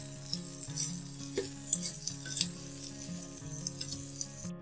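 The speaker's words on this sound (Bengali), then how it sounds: "এই সবজিগুলো আমি এই তেলের মধ্যে পেঁয়াজের মধ্যে দিয়ে দেব। তো এগুলো একটু হালকা ভেজে নেব নেড়ে চেড়ে।" Capsicum, tomato and onion sizzle softly in hot oil as they are stirred, with light scraping and clinks of a utensil against the pan over a steady low frying hiss, fairly quiet.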